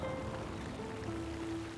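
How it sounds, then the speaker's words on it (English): Water runs steadily at an ancient oak water wheel in a South African garden, a continuous, even rushing wash with no distinct splashes, joined by faint sustained tones in the background. "And what could be more gentle and relaxing than the sound of water?"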